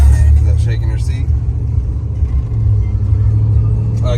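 Low, steady engine rumble from a 1993 Chevrolet C1500 pickup with a 5.7 V8 and automatic transmission while driving, with continuous heavy low-end drone throughout and brief voices over it.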